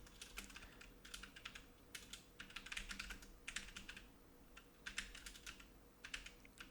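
Typing on a computer keyboard, with bursts of rapid key clicks separated by short pauses, close and fairly quiet with no talk.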